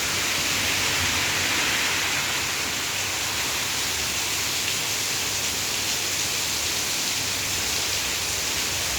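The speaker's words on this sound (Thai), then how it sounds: "ตอนนี้พัทยาฝนตกแห้งเลยนะ" Steady, dense hiss of heavy rain pouring continuously at Jomtien Beach, Pattaya, with no breaks or voices, a broad even wash of water noise throughout.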